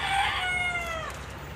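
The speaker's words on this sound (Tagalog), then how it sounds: "Yan po mga nangingitlog kong manok." An egg-laying hen gives one drawn-out, falling call close by, loud at first and then fading over a quiet farmyard background.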